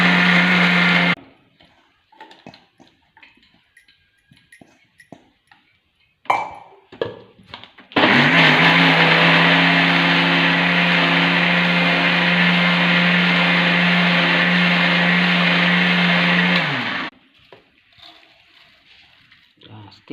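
A kitchen mixer grinder blends fruit, whirring loudly and steadily for about nine seconds after short bursts and clatter, then cutting off abruptly.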